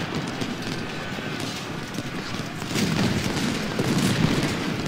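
Cannon fire in the Ultimate General battle game rumbles as low, distant booms rolling under a steady battle din, swelling louder toward the end, with no clear speech.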